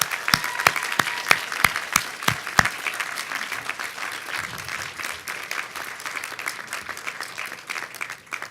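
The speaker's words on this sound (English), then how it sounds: "Let's give everybody a big round of applause again." Audience applause for community award winners at a city event, opening with a few sharp, distinct claps before settling into sustained, even clapping from a large crowd that carries to the end.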